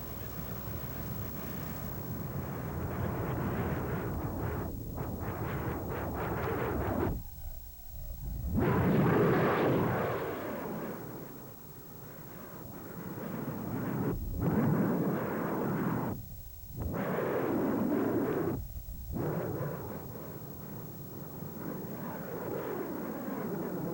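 Harrier jet aircraft flying, a loud roaring rumble that swells and fades with several abrupt cuts and breaks, joined by booming blasts.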